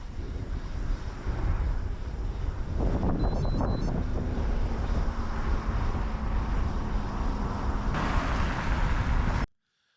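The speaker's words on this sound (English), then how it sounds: "It's so windy." Strong cold wind buffets a microphone while cycling downhill at about 30 mph on the Erie to Pittsburgh route, a loud continuous roaring rumble that surges midway and cuts off abruptly at the end.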